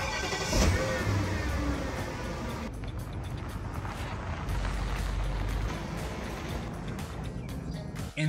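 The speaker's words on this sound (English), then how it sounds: "Good old V8." A classic 1990s or early-2000s BMW V8 runs with a low engine rumble that swells briefly as if revving, then settles into a steady drone.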